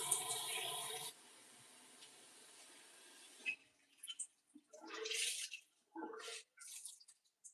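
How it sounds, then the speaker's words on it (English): Hot water runs and splashes as a cloth is wet down for a face massage: a steady close rush of water at first, then a quiet gap, then several short, wet splashing bursts. "I'm using really hot water."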